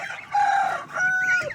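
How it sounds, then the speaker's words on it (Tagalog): Chickens on a Filipino farm give a brief, close crow and a few clucks, loud and clear, with no talk over them. "Ayan ang ating mga sisiw ngayon na manok."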